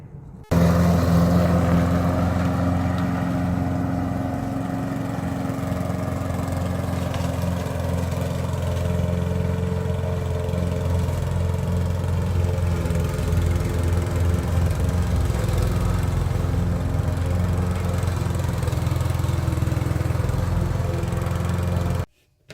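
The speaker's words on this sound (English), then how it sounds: "out there mowing the lawn" A lawn mower runs steadily outdoors, a constant loud, buzzing engine drone that holds for over twenty seconds, then cuts off at the end.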